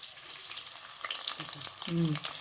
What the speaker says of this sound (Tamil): இப்போ வெங்காயமெல்லாம் வதங்கிடுச்சு பாருங்கள், எப்படி வதங்கிடுச்சு.